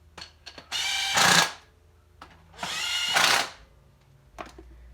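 Two bursts from an impact driver tightening clutch cover bolts on a 2005 Honda CRF450R dirt bike, each a loud buzzing rattle of about a second, with small tool clicks between them.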